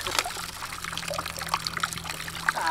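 Water trickles slowly from a pipe outdoors in rural Mato Grosso do Sul, a soft, uneven dribble of small splashes and gurgles close by, fairly quiet and without talk.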